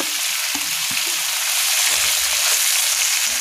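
Chopped cabbage sizzles loudly in a hot pan for mixed vegetables, a steady close hiss of frying with a few soft stirring knocks underneath.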